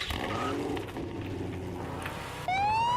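A police car siren in the Vehicle Simulator video game switches on partway through, a loud, rising electronic wail that cuts in abruptly over the steady hum of game engine noise.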